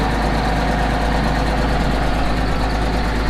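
A Versatile farm tractor's diesel engine idles close by, a loud, steady low rumble with even mechanical chatter and no voices over it.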